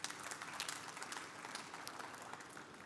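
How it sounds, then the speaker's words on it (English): Audience applauding after a keynote talk on smart manufacturing at the Formnext trade fair, a dense, even patter of many hands, faint and somewhat distant, lasting the whole stretch. "Big applause for Nick, please, ladies and gentlemen."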